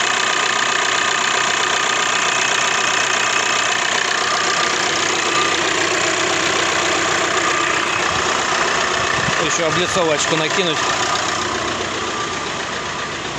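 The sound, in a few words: Volkswagen Crafter 2.0 TDI diesel engine idling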